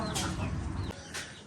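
Pet hens cluck close by in a backyard coop, giving short, throaty calls and a couple of sharper squawks over a busy low rustle of farmyard noise.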